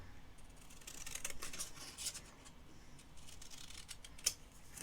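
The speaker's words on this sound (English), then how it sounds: "I'm just going to use my scissors just to cut this out." Scissors snip through paper in quiet, crisp repeated cuts, close by, with soft rustling between strokes.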